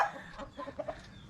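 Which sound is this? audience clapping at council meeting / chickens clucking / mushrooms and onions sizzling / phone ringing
chickens clucking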